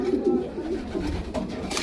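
A pair of racing pigeons, a cock and a hen, coo actively at close range in low repeated rolling phrases, with brief rustles and faint background voices near the end.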